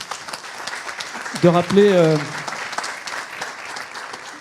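Conference audience at a national biomass colloquium round table applauding steadily throughout, with a voice speaking briefly over the clapping midway.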